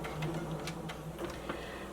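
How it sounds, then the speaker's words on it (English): A sewing machine back-stitches a drawstring elastic-waist maxi skirt with a quiet, rapid mechanical ticking that stays close and steady, and nobody speaks. "keep sewing until you get to the other end. And then back stitch."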